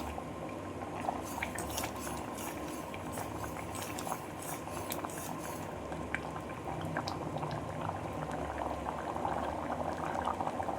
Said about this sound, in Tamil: 5 நிமிஷம் நல்லா கொதிக்கட்டும்